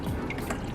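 Water conditioner is poured into aquarium water, a short, close trickle and drip of liquid splashing into the tank.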